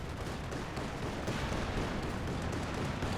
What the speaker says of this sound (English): And that was more of a strafe because of Jaeger armor.